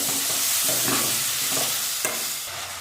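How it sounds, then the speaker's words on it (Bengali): Prawns and raw mango with turmeric fry in hot oil, making a loud, dense, close sizzle with occasional stirring knocks and scrapes throughout. "মাছ চিংড়ি মাছগুলো হালকা ভেজে নেব তেলের মধ্যে"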